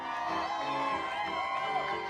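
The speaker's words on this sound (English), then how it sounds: "the Chicago Cubs' trip to the World Series has many Chicagoans and Northwestern students cheering" A crowd of Chicagoans and Northwestern students whoops and cheers for the Cubs during their World Series run, excited overlapping shouts, moderately distant and fairly quiet, lasting the whole short stretch.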